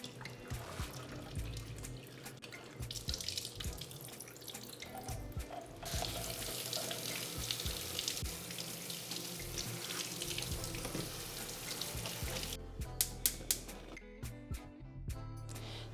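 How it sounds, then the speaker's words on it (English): Liquid from canned black beans drains into a sink in a kitchen, a steady close trickle and splash running for most of the clip, with faint clatter near the end. "I'm just gonna pour them in here because I really like to drain the beans."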